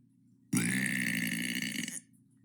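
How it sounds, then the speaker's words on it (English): A single long, loud burp lasting about a second and a half, close to the mic and alone, with quiet background before and after. "There's your burp for today."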